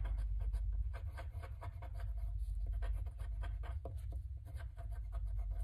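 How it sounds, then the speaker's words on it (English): Steady scratchy medium-nib fountain pen with blue-black ink gliding across paper in quick repeated strokes, close and fairly quiet, with no voices. "Writes very smoothly."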